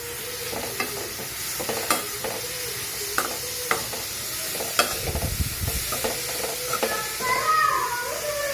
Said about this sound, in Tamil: இப்போ கேரட்டு, முட்டைக்கோசும் இதில் போட்டு நல்லா வதக்கி விடலாம்.